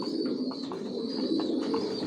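Adult racer pigeons coo in a low, continuous murmur, several birds close by with soft overlapping calls and no talking.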